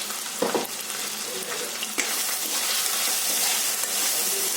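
Chopped tomatoes with turmeric and salt are stirred in a hot pan for chicken curry, with a busy sizzle, a few sharp stirring clatters and a steadier frying hiss that follows.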